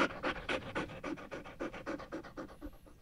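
A smart speaker plays a dog sound, steady rhythmic panting close up and alone, with no talk over it.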